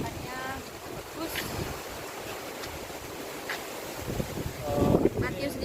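Strong wind buffeting the microphone at an outdoor church site, a steady broadband rush with gusts swelling louder near the end, while a voice speaks faintly underneath.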